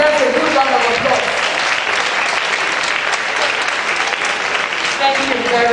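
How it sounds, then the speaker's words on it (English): Sustained audience applause fills a seminar hall at a gender studies event, loud and dense throughout with steady clapping and no break. "I think you deserve a good round of applause."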